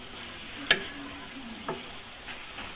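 A spoon stirs sitaw, saluyot and Chinese malunggay in a cooking pot, with one sharp clink against the metal followed by a few softer taps over a faint, low sizzle.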